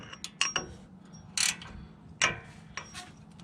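A hand wrench on a bolt at the bottom of a strut on a 2003 Tacoma 4x2, heard as a few short, close metallic ratchet clicks and clanks spaced apart, fairly quiet and with no talking.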